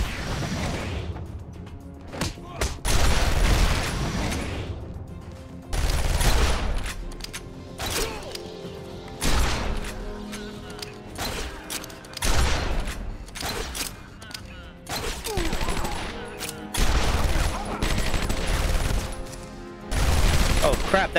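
Armed thugs open fire in the Batman: Arkham Asylum video game, with repeated loud bursts of gunfire and crashing impacts in irregular clusters, while voices talk between the shots.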